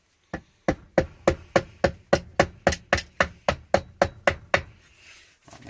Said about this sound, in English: Just gentle taps because I don't want to fark anything up.